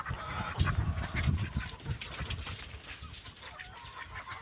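Farm chickens (RTL laying hens) cluck and chatter together at close range during feeding, a busy overlapping flock sound with scratchy rustling throughout.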